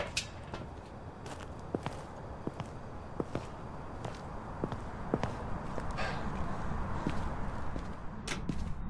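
Ghost footsteps in the Phasmophobia video game tap out an irregular series of sharp thumps, some louder and nearer than others, over a steady hissing background with no talking.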